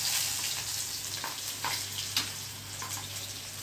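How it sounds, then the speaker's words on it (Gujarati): Chopped onions hit hot oil for a Kathiyawadi tempering with cumin, dried chillies, curry leaves and asafoetida, producing a continuous close hiss and sizzle with a few faint crackling pops and no talking. "આ ડુંગળીનો વઘાર કર્યો."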